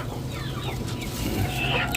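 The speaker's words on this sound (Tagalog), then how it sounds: "Baka mamaya makawala yung mga manok ni Christian dito." Several chickens cluck and murmur together in a busy, steady outdoor din at a backyard chicken farm in the Philippine countryside, with faint voices mixed in.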